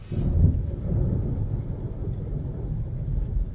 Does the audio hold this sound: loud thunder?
yes